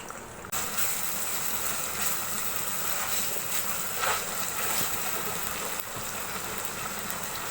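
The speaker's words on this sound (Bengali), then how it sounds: "দিয়ে দিচ্ছি পানি" Water goes into a pan of oil, onion and green chilies while raw jackfruit and chicken are being cooked. It makes a loud, steady rushing gush that runs for several seconds, close by and without talk.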